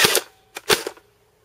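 A Steyr AUG A2 airsoft gun fires a sharp, loud report, and a quick pair of fainter snaps follows before the clip falls quiet.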